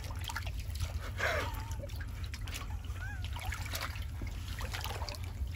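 Water splashing and trickling as a moray eel is washed in the sea at a rocky shoreline hole, a faint splashy burst over steady low rumbling surf and wind, no clear talk.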